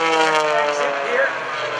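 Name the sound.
aerobatic propeller airplane maneuvering at an airshow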